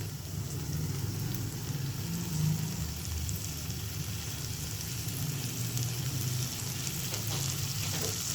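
Bhindi masala (okra) sizzles steadily in a pan as it cooks, a constant close frying hiss with faint stirring, no voices.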